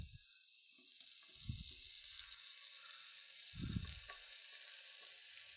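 Tomatoes tossed into a hot pan with egg sizzle steadily, a continuous close frying hiss with a few soft stirring thumps beneath it and no talking.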